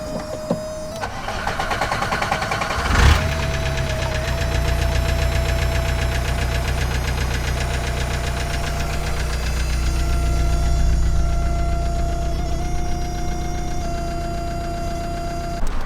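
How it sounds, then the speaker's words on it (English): A van's engine runs steadily and loud nearby with a persistent rhythmic knock, and a sharp clunk sounds early on. "The engine runs."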